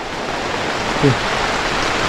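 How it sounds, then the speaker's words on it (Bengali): Heavy rain falls in a forest setting, a dense continuous hiss with a brief faint voice-like murmur in the middle. "ভালো বৃষ্টি পড়তেছে।"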